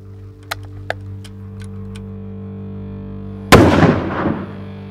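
A single loud rifle shot fired with Winchester AccuBond CT 180-grain ballistic-tip ammunition cracks out sharply after a quiet stretch with a few faint clicks, then rings off in a decaying echo.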